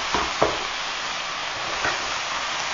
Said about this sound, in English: the best way to chop and separate the meat is to get a spatula and get down and get dirty with the end of your spatula